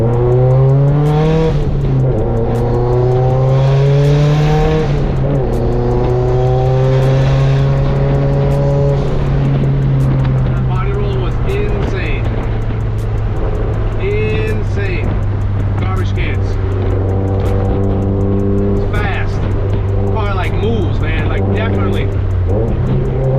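2018 Subaru STI driving on a road, its engine droning loudly and steadily with the pitch sliding up and down through gear changes, while a person talks throughout.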